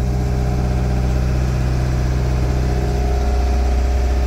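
A narrowboat engine runs steadily at 2000 RPM, producing a loud, constant low droning hum with an even throb throughout.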